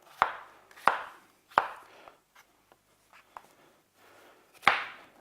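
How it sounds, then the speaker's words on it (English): A knife chops a potato into small pieces on a board, with about five sharp, close thuds spaced irregularly and quiet scraping between them. "the smaller you cut your potato, obviously it's the faster it's going to cook."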